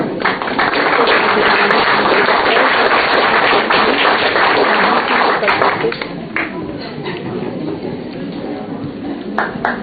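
Audience applause for a watercolour prize winner at the 2011 La Première Fois international art salon, a dense burst of clapping that thins out after about six seconds into a few scattered claps.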